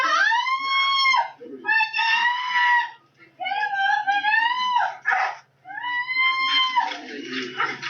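A dog whimpers and howls in a series of long, wavering, high-pitched cries broken by short pauses, close and loud, with a low steady hum beneath.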